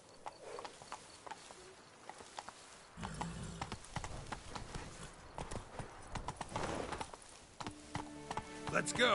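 Roach the horse gallops in The Witcher video game, hooves clip-clopping in a quick, steady rhythm that stays faint and grows busier toward the end.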